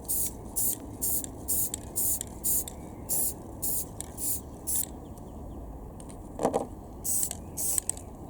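Spray paint applied to a camera lens hood for a Panasonic HC W570 camcorder: a dozen short, close hissing bursts in quick, fairly regular succession with small gaps, over a low background rumble and no talking.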